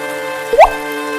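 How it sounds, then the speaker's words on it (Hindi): A single water drip from rain lands with one short, clear plop close by, standing alone over a quiet background hum. "बारिश रुकने का नाम नहीं ले रही थी।"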